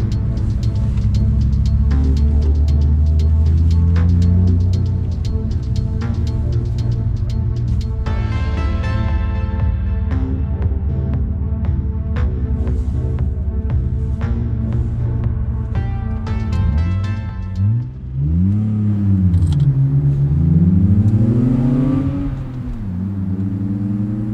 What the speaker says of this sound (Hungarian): a 6 hengeres hang azért az tök jó